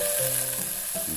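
Giblets being stir-fried in a hot pan with chilli and garlic for a spicy Thai basil stir-fry, a soft steady sizzle with faint stirring, brief and fairly quiet.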